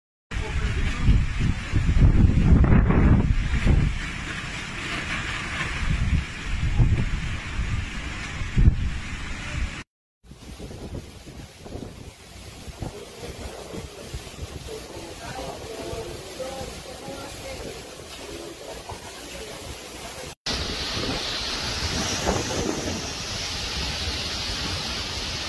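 Strong wind and rough surf from a Category 5 hurricane in the historic center of a Colombian city, a loud, steady roar of gusts and crashing water that rises and falls over the full length, with brief dropouts between sections.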